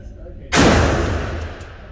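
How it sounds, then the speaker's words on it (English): A single loud, close gunshot from a handgun fitted with an aftermarket magazine cracks out sharply and then rings off in a long decaying echo outdoors. "Let me shoot first. First shots with it."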